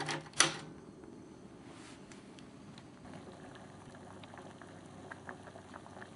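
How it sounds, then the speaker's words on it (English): Dashi with kabocha simmering to a boil in a covered pan, a soft steady bubbling and hiss with faint lid rattles, close and fairly quiet, no talking. "Alright, it's come to a boil."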